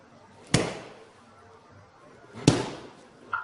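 Boxing lead hook punches thrown at full speed, with two sharp impact slaps about two seconds apart and a third starting at the end, each followed by a short decay.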